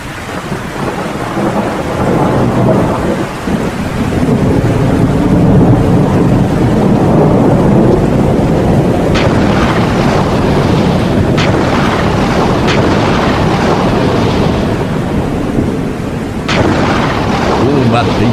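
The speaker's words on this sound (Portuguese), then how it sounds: "Uma tempestade começou a desabar" A heavy night thunderstorm with pouring rain: a loud, constant roar of rain and wind broken by several sharp cracks and deep rumbles of thunder, close and powerful.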